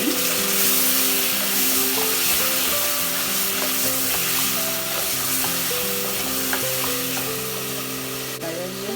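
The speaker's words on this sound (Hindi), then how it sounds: "भिंडी हो गई है हमारी फ्राई।" Loud, steady sizzle of okra (bhindi) frying in hot oil in a pan, a dense continuous crackle with a low hum underneath and no pauses.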